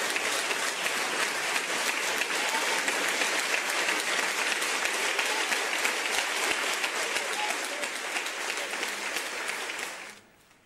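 Prolonged, dense applause from a crowd at a Partido Popular event as a candidacy for party president is announced, sustained and even for about ten seconds before stopping abruptly.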